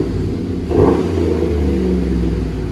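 A 2012 Chevy Silverado LTZ with a 5.3L V8 and Flowmaster Super 10 dual exhaust revs once, a loud deep close-up burst swelling from idle, then settling back to a steady rumbling idle.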